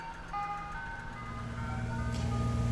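An ice cream truck working a corridor in Hiawatha plays its jingle tune, a steady looping melody over a low engine rumble that grows slightly louder toward the end.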